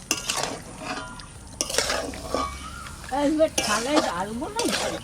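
Chicken for chicken maharani is stirred and sautéed in a pan over low heat, with scraping spoon strokes and clinks against the pan over a soft sizzle, while a voice sounds briefly in the background.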